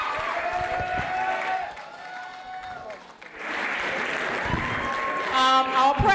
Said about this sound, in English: y'all need to give her a round of applause now